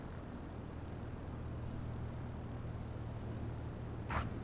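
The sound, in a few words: aircraft propeller engine landing, from video game MS Flight Simulator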